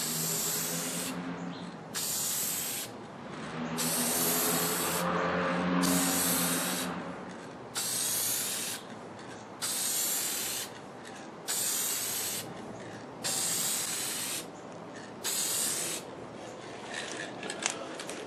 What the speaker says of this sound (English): now I'll try to do a second pass, and I'm going to start from the opposite side and try to do a little bit staggered from where I sprayed on the first pass.